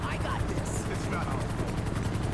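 A helicopter in GTA 5 during a modded police patrol gives a loud, steady rotor chop with fast regular blade pulses, heard close throughout alongside game noise.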